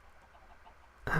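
Chicken clucking in Minecraft, a single sudden, loud cluck that comes in abruptly at the end after near silence.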